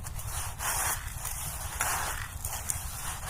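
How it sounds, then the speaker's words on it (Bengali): Moistened rice grains rubbed together by hand in a container for puffed rice, giving a close, continuous gritty rustling that swells and eases in rough strokes, heard alone. "এইভাবে হাতে ঘষে ঘষে একটু মাখিয়ে নিতে হবে।"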